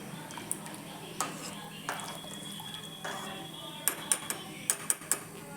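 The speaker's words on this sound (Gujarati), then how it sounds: "બધું હલાવીને મિક્સ કરી દઈશું" A spoon stirs wheat and vegetable khichdi in a pot, with scattered scrapes and taps, then a quick run of clinks against the rim near the end.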